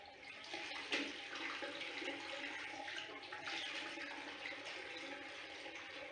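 Water runs steadily from a tap as someone washes their face in a 1977 film, Cathy's Curse, a faint continuous splashing hiss with a brief louder splash near the start.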